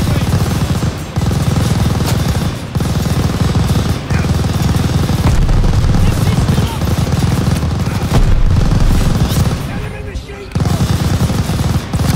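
Sustained MG machine gun fire in a Call of Duty: Vanguard campaign battle, with a loud, continuous rattling stream of shots broken by brief pauses and mixed with distant booms and shouting voices.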